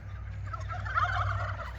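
A turkey on a rural homestead gobbles in a steady, rippling burst lasting nearly two seconds, moderately loud and fairly close, with a low constant hum beneath it.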